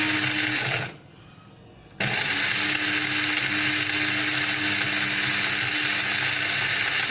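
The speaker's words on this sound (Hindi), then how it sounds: "ग्राइंड हो गई है काली मिर्च और क्या कहते हैं ये हमारे पास ज़ीरा जो है ग्राइंड हो गया है।" Electric grinder whirring loudly as it grinds black pepper and cumin seeds, a steady high motor drone that stops for about a second and then restarts and runs on continuously.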